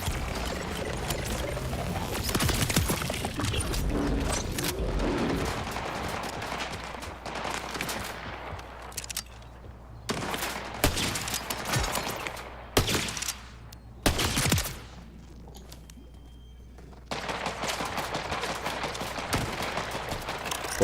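Sniper rifle fire in the Borderlands 4 video game, a series of sharp loud shots with gaps between them and one quieter stretch, over game background sound.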